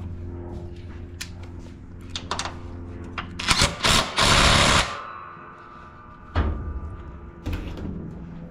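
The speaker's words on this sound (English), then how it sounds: "let me grab the impact here and run that back down." An impact wrench on a John Deere S140 riding mower gives a few short, loud rattling bursts while tightening a bolt, amid clanks and shop handling sounds, with no talking.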